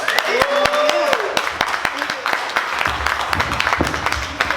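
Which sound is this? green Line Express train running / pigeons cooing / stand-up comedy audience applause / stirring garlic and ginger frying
stand-up comedy audience applause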